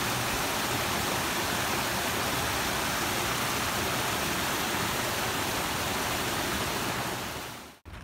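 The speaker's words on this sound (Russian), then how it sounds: "Водопад!" A Yosemite waterfall roars as a dense, steady wash of rushing water, loud and unbroken, until it cuts off abruptly near the end.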